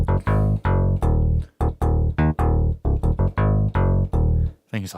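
Punchy synth notes from a Yamaha DX7 FM synthesizer in short staccato stabs and runs, bright metallic FM tones with choppy rhythmic gaps, loud and close with no voices.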